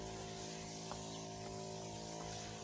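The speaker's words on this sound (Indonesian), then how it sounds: "atap-atap semprot semuanya." A sprayer wets the walls and roof of a broiler chicken coop with disinfectant solution, producing a constant hiss over a steady humming drone that runs unbroken from start to finish.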